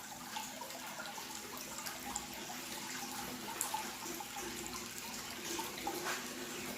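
Water circulating through the waterfall outlets of a hydroponic RDWC system, a steady, continuous splashing and trickling hiss that stays at a low, even level throughout with no voices.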